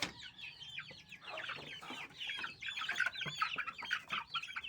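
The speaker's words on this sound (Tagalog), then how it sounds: "Update sa ating mga sisiw." Half-grown chicks and chickens cluck and cheep close by in a coop, a busy overlapping chorus of short calls that rises and falls with no one talking.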